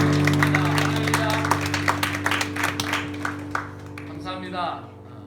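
Church audience applauding at a youth revival service, a crowd's clapping that starts dense and thins into scattered claps, with a steady hum underneath and a voice briefly audible near the end.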